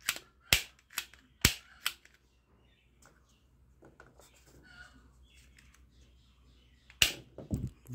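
A small toy shotgun fires several sharp, loud cracks close by, first in a quick cluster of four and later a few more, with quiet handling noise between shots.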